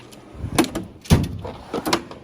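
A drawer on a Snap-on toolbox slides open in a shop, giving several rolling, rattling metallic pulls and a firmer knock, close and fairly loud with no talk.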